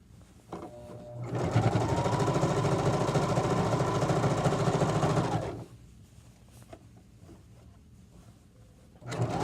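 A sewing machine runs in one steady, loud burst of about four seconds while stitching around the circular seam of a drawstring bag, then stops, leaving only faint room noise.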